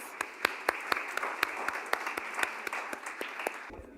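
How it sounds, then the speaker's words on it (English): A conference audience applauds its speakers, with steady clapping from many hands and a few sharper, louder claps standing out, fading near the end. "a big round of applause to our speakers"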